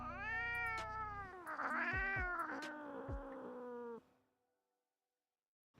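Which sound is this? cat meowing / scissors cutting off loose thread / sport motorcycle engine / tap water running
cat meowing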